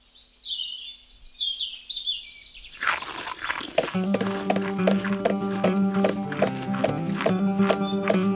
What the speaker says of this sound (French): C'est un cheval, c'est pas un âne.